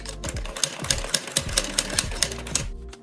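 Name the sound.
sewing machine stitching a neckline with cord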